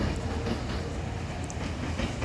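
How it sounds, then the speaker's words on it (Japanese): A Kyoto Municipal Subway 10 series train pulls out of Yamato-Saidaiji toward Shin-Omiya and Nara, its steady rolling rumble and wheel noise loud and close throughout, with no voices. "京都市営地下鉄の10系大和西大寺を出発して新大宮、奈良へと走っていきます。"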